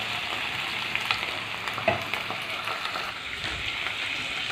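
Paneer chilli with soy sauce and vinegar sizzles and fries steadily in a pan while being stirred, with soft scraping clicks over a continuous crackle and no talking.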